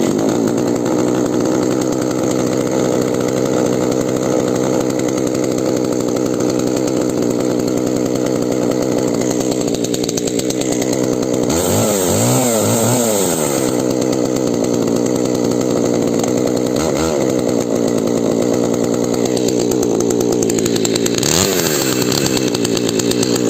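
A Stihl MS 462 C chainsaw runs close and loud at a continuous idle drone, with several sharp throttle revs in the middle before it settles back to idle.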